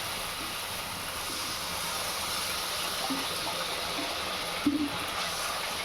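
Water poured into spices frying in a pan for a Bengali eggplant curry gives a steady broad hiss of steam and sizzle, with a few faint clinks near the end.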